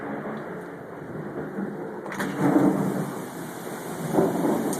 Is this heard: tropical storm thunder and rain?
yes